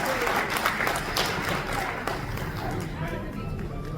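An auditorium audience at an annual film and arts award function breaks into loud applause, a dense continuous clatter of many hands with crowd murmur mixed in, close and steady across the short stretch.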